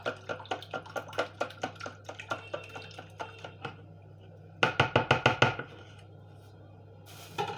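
A spoon stirs an egg and custard-powder mixture in a bowl, giving rhythmic light taps and clicks over a low steady hum. It pauses, then returns in a quicker, louder burst.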